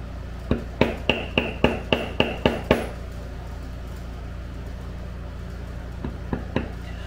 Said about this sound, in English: on the next square down on that line, I'm going to bevel on the outside